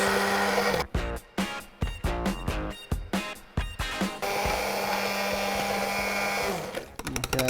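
Blender blending chestnut candy with milk in a deep container, starting with several short pulsed bursts and then running as a continuous whirring drone before stopping, with a brief restart at the end.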